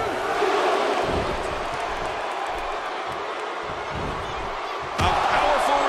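An arena crowd roars in the wrestling video game WWE 2K16, a broad continuous din with thuds of in-ring impacts and a surge of louder cheering near the end, while a commentator voice speaks over it.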